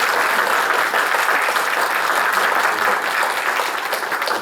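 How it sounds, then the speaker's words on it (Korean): Church congregation applauding warmly during a Sunday worship service, a steady, dense burst of clapping from many hands held evenly for several seconds without talk. "우리 뜨겁게 큰 박수 주세요."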